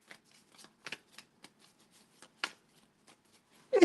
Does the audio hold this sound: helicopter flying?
no